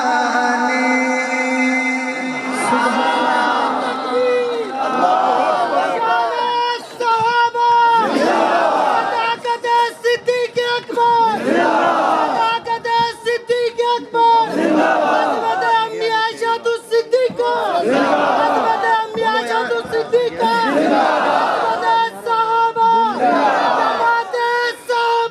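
A large crowd at a religious gathering shouts slogans in loud, rhythmic unison, each chanted call rising and falling in repeated waves that fill the whole stretch, with a lead voice prompting between the responses.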